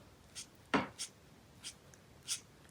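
A Stampin' Blends alcohol marker in Poppy Parade flicks lightly across paper in a handful of short, quiet strokes, one heavier sweep standing out among soft scratchy flicks, with no talking.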